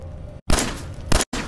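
Bursts of gunfire in Fallout 4, two loud broadband blasts cut by abrupt silent gaps, sounding close and heavy over a low rumble.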